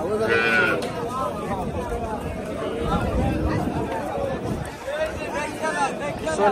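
Cows and their calves at a crowded rural cattle market near a riverbank in Bangladesh, with occasional moos and bleats rising through dense chatter of buyers and sellers talking all around.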